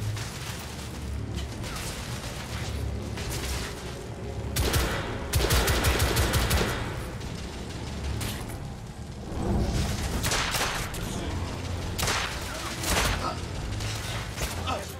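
Rapid automatic and single gunshots in The Order 1886 video game combat, loud bursts recurring throughout over a dense background of game effects and explosions, with a player talking at times.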